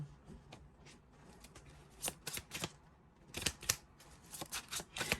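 Tarot cards are shuffled by hand for a pick-a-card reading, with crisp papery riffles and slaps coming in quick irregular bursts that grow louder and denser toward the end, with no talking.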